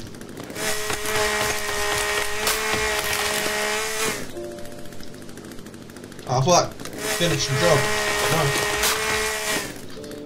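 A chainsaw cuts trees in the video game The Forest, a loud steady buzzing whine that carries on throughout, with a brief choppy burst near the end and someone talking over it.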